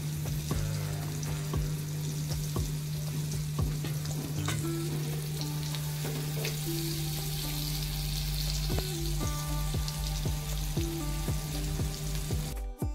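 Stuffed bangda (Indian mackerel) fries in a pan over medium heat, giving a steady, close, dense sizzle that continues throughout with a few small pops and no voices.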